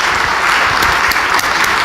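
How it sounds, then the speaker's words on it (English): A church congregation gives a dense, sustained round of applause, loud and close, with many hands clapping together and a few sharper claps standing out above the steady wash. "let's give these guys a big round of applause"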